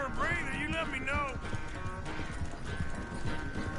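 Horse hooves clip-clopping steadily beneath continuous talk and a whinny, in the Red Dead Redemption 2 video game, a rapid rhythmic beat of footfalls running the whole stretch.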